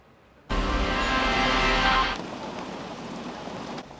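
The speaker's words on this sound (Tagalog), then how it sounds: "Kahit malakas ang buhos ng ulan" Heavy rain pours down outdoors at a wake, a sudden dense roar that starts abruptly, stays strong for a moment, then eases into a steadier, lighter downpour.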